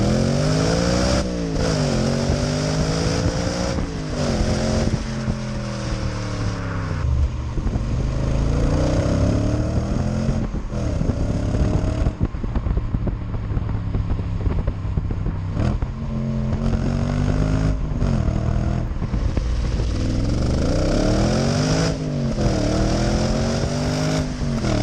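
A 2006 Audi RS4 B7 with a naturally aspirated V8 and manual gearbox pulls hard through repeated rising revs, each climb cut by a gear change. The engine drones loud and close throughout.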